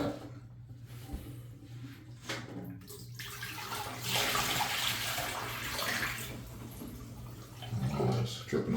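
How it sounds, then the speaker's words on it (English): Water poured out of a toilet tank during a fill valve and flapper replacement, a steady splashing and trickling stream that swells in the middle and again near the end, with some faint background voice. "So let me pour this water out."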